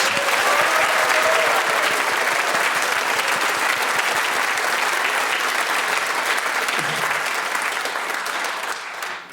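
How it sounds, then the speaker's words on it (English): A round of applause from a radio quiz show archive, dense and steady clapping from a large audience, loud and close, running nearly ten seconds before tapering at the end. "here comes an especially mellifluous round of applause"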